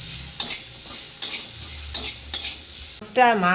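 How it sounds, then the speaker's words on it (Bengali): Chopped onion frying in a pan alongside fried fish for a taro-leaf mash, a steady close sizzle punctuated by several stirring scrapes, ending with a short burst of voice. "হালকা করে ভেজে নেবো বন্ধুরা"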